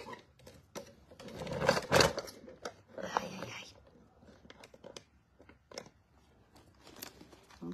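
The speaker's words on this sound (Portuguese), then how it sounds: "Vou colocar em cima do debrum uma margem de meio e vou costurar." A sewing machine stitches binding onto a mini bag in short, quiet bursts of rapid clicking, separated by pauses and handling noises, with soft talking at times.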